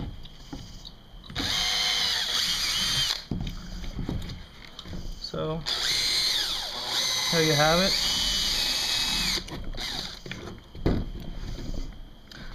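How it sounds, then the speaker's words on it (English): A power drill whirs in several bursts, its pitch rising and falling as it bites, with someone talking briefly between runs. "so you want to go ahead and drill this"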